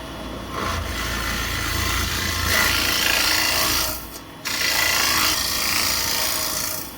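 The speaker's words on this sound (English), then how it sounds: "We can use a scraper." A scraper cutting wood on a lathe while turning a recycled lidded pot, a loud continuous rasping scrape over the spinning workpiece, briefly lifting off the wood before resuming.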